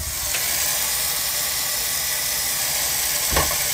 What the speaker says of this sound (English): So this is how I wash the dishes.